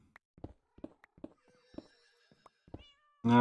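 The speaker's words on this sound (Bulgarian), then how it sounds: "Тези котки толкова ли са гладни?" Minecraft cats meowing in repeated short calls, close and fairly clear, with a louder burst of noise at the very end.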